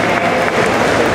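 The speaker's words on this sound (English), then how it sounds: "How about a round of applause for our bikini champions?" Audience applause for bikini champions at the Arnold Classic Amateur 2014 bodybuilding contest, a steady wash of clapping from a large crowd in a hall, loud and continuous.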